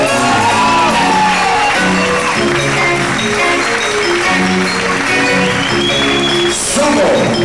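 Bar audience at an acoustic band concert cheering, shouting and whooping with applause mixed in, a dense crowd roar that stays loud throughout, with music tones running underneath.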